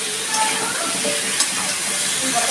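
Pumpkin with turmeric powder fries in a pan for a vegetarian drumstick and pumpkin dish, giving a loud, dense, steady sizzle up close with small scraping bursts from stirring.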